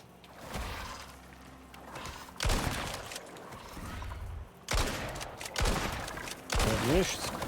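Shotgun blasts in the Icarus survival game, several loud booming shots spaced a second or two apart with echoing tails, set against ambient game noise and a faint whooshing tone near the end.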